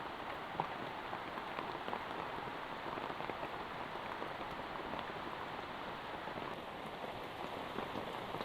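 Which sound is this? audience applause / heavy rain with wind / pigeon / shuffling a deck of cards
heavy rain with wind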